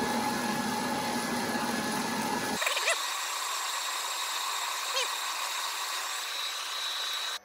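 A metal lathe running on a phase converter while cutting metal: a steady machine hum with a harsh cutting roar that suddenly stops partway, leaving a constant motor whine and faint tones until it shuts off.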